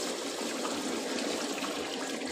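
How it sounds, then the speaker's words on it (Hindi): Yakhni stock poured into a pot of browned chicken for Hyderabadi chicken pulao, a steady close liquid splashing and trickling that runs throughout at low volume. "ये मैं यखनी शामिल कर रहा हूँ"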